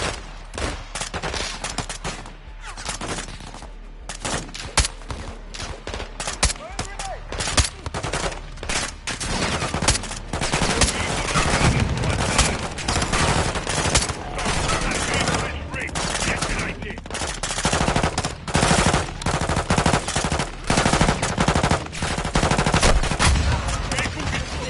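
Covering gunfire and machine gun fire in Call of Duty Modern Warfare 2, with dense, loud rapid bursts and overlapping shots continuing without pause and sporadic voices mixed in.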